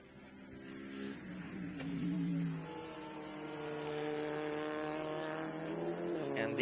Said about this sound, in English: There's the Audi lapping some of the slower cars.